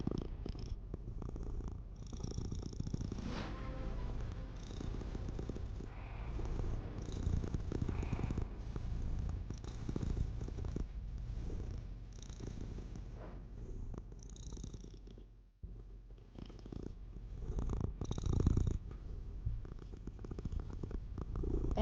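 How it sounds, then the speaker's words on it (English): A cat purrs steadily and close up, a soft low rhythmic rumble that continues through the whole stretch with only a brief dip midway. "What do you mean you can't hear the purr?"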